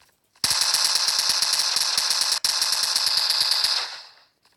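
Rapid automatic gunfire from the multiplayer shooter Standoff rattles off in one loud, sustained burst of close, evenly spaced shots lasting about three and a half seconds, with a brief break midway.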